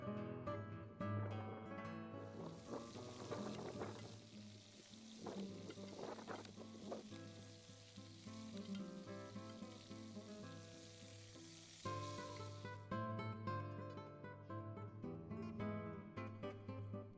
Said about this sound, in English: The meat is seasoned and browned in plenty of olive oil.